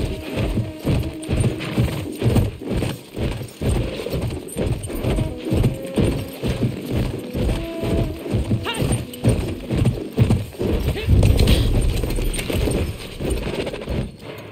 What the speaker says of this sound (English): The Bedouin treasured their horses, and in return, those animals granted their riders unparalleled speed and mobility